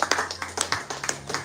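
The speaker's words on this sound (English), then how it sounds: "A round of applause for our speakers." An audience claps for the speakers at a business meeting in Sagamu, a brief burst of loose, overlapping handclaps at moderate level.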